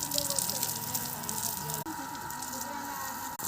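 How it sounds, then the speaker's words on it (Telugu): Water poured over a cow during a bath, a steady gushing splash running throughout with two brief dropouts, while a voice is heard faintly in the background. "ఈ ఆవికి స్నానం పోస్తుందా చూడండి"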